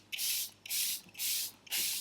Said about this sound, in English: Let me do a little bit of setting spray.